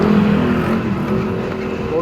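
A car passes close by on a street, its engine a loud, steady rumble that fades slightly and then swells again, with people talking nearby.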